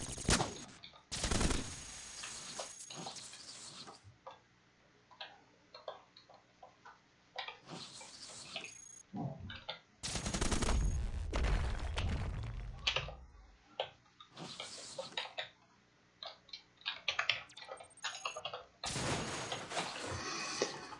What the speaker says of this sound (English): right now I'm shooting machines